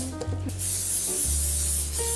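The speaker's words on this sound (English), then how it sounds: "Y'all watch me spray." Cooking spray hisses from a can over a donut-hole batter of milk, melted butter and egg in a home kitchen, a steady close spray lasting about two seconds under a low background hum.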